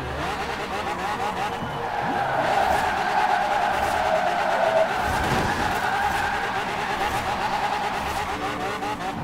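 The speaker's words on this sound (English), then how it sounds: "this car does real good in drift." A 1965 Mustang GT in a racing video game drifts with steady, loud tire squeal over its engine roar, a sustained skid holding for several seconds and swelling midway before easing off.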